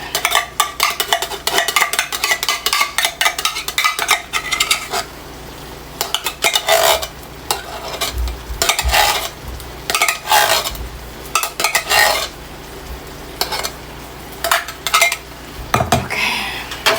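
A spoon scrapes and clatters against a pot of simmering food, repeated loud metallic scraping strokes and clinks close up, with short pauses between bursts.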